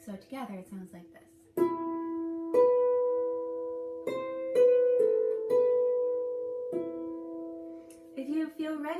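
A harp playing the Bonny at Morn phrase, a sequence of about eight plucked notes that ring and decay one after another, soft and close.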